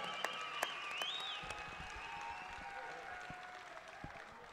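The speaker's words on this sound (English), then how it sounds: "How about a big round of applause for Gene and Jose?" Crowd applause for two boxers after a four-round bout at a boxing event, scattered claps and cheers in a large arena, with a whistle-like tone and crowd noise ringing over the clapping.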